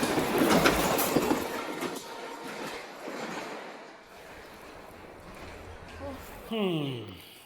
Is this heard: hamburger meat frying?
no